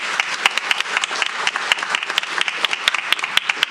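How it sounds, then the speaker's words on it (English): Audience applause at a school board session, a dense, lively patter of many hands clapping close by with sharp individual claps standing out, continuous for the whole stretch. "Round of applause for Liz."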